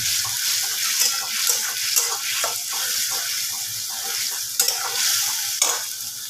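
Ginger-garlic spice paste for milk chicken stir-fries in a pan with a bright, hissing sizzle, broken by repeated scraping and stirring knocks from a spatula.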